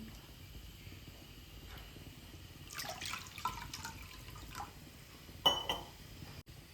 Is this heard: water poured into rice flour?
yes